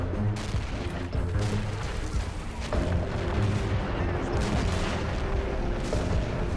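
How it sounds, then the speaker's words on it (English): Grenade explosion in the Army Men war game, a booming burst amid continuous dense battlefield gunfire and artillery rumble, with a voice talking over the din. "Grenade thrown."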